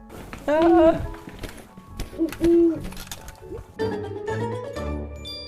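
An owl hoots twice in clear, tonal calls, set among other scattered sounds and voices in a children's church program.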